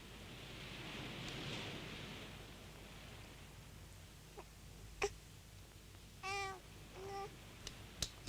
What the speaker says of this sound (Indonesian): Kucing kok Badung bener. Datang lagi,